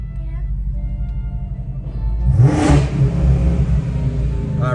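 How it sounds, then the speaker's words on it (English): A Lamborghini sports car engine idles low, then revs up sharply to a loud, high roar and settles back into a throaty rumble. "Oh, I revved it too high."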